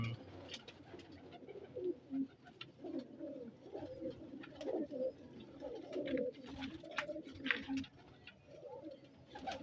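A roughly ten-year-old racing pigeon coos in repeated low, throaty phrases, close and fairly quiet, with pauses between bursts and faint background noise.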